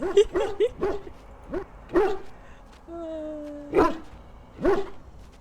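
A dog in the Dragon Age: Origins video game gives several short barks and yips in an uneven rhythm, close and fairly loud, with a brief steady tone partway through and no talking.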